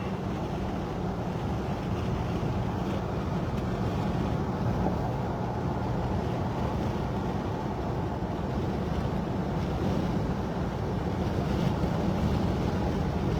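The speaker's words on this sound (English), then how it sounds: "Big surf still, big waves." Big surf pounds the Gulf shore at Port St. Joe in the days after Hurricane Helene, a steady, dense roar of breaking waves mixed with wind rumble on the microphone, continuous and loud throughout with no talk.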